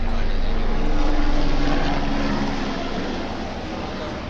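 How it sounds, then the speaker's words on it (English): A loud, steady helicopter engine drone with a rotor-like throb, gradually fading slightly as it passes overhead. "Anyway, that was the helicopter."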